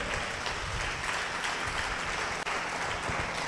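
A church congregation claps hard during worship, loud, dense and unbroken applause filling the room for the whole stretch, with no voices standing out.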